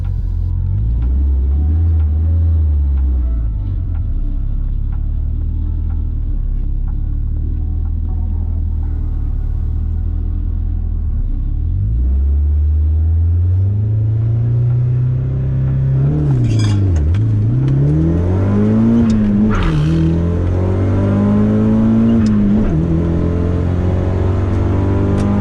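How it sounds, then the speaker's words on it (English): A car at a drag strip launch revs repeatedly and loudly up close, engine pitch climbing and dropping in several swells, with a rough rumbling idle in between. "trying to get a bit more RPM so that I don't stall on the launch"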